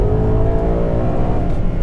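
A Ferrari 812 Competizione at the Fiorano circuit blares close and loud, its engine sustaining a dense, steady howl with no pauses across the whole stretch.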